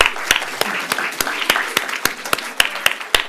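An audience at a green skills hackathon keynote gives a round of applause for the participating schools, a dense, lively clatter of many hands with crisp claps popping out close by, loud and steady throughout.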